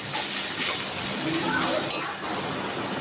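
Chopped onion with a little salt frying in a pan, a steady close sizzle that runs unbroken throughout.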